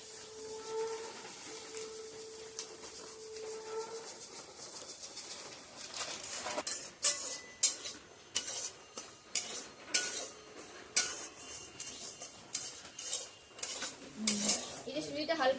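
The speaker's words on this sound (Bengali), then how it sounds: "এবার আমি এই সুজিটা ভেজে নেবো একটু হালকা করে" Semolina being lightly dry-roasted in a pan for sweet semolina and flour pitha, heard as steady scraping, clinking and stirring of a utensil against metal that grows louder and busier partway through, with faint background hum.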